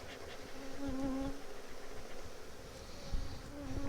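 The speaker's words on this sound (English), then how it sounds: "Ooh, I don't know if I like all these bees going over the edge over here." Honey bees swarm around an open hive during a colony inspection, making a steady, dense buzzing hum that fills the air without a break and with no voices.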